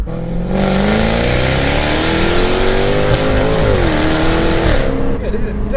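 A methanol-injected 700bhp Jaguar F-Type S engine revs hard and climbs in pitch over several seconds, a loud raspy roar close by with people talking beneath it.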